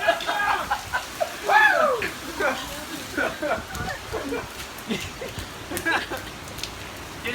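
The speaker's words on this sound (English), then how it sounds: "Can you believe it's raining?" Rain from Hurricane Irma hisses steadily on surfaces while excited voices shout and talk over it at close range.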